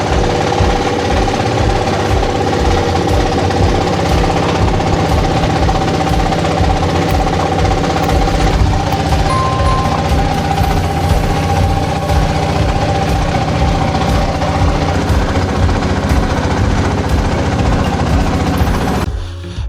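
Motor boat engine chugging on the Piyain river, a loud, steady rapid knocking beat with droning mechanical hum, close and continuous throughout with no voices.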